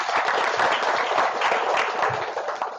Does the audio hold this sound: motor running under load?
no